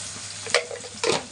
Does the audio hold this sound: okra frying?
yes